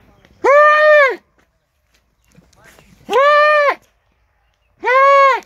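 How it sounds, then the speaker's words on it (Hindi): Three loud, nasal bleats from a Rajan Puri Gulabi goat come close to the microphone at even intervals, with faint shuffling and hoof-like sounds in the quiet gaps. "ये बकरे की सिर्फ आप दोस्तों को आवाज सुना रहा हूँ"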